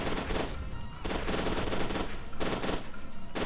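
Sustained automatic gunfire from the video game FEAR 2 rattles on loudly and continuously, with rapid shots blending into a dense barrage.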